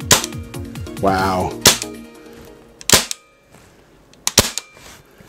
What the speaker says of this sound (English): I've got no ammo in, I'm gonna dry fire it.